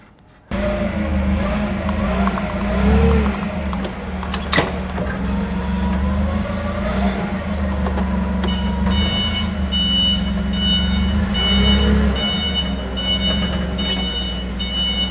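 A forklift lifts the motor out of a truck chassis: a loud, steady engine drone up close, a rising mechanical whine partway through, then a series of high tonal beeps.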